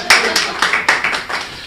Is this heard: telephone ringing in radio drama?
no